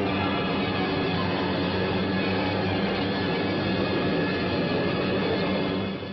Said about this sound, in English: Jap bombers bored in.